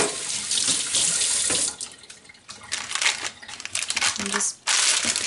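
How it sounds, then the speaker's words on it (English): Kitchen tap water runs over hands being wet before shaping raw coconut almond bars, a close, loud splashing hiss that cuts off briefly and resumes with a voice speaking over it. "So I just wet my hands."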